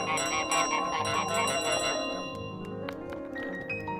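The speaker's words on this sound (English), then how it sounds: "When you honk it, rings the bell." A bell rings out as a goose honks at it in Untitled Goose Game, a dense cluster of bright chimes in the first two seconds that thins into scattered single rings over steady background game music.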